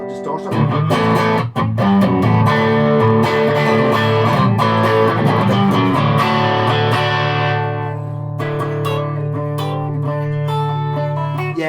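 Electric guitar played through a Vox MV50 amp set for distortion, ringing out sustained, fuzzy chords with a few sharp strums, loud and close, settling into a long held chord toward the end.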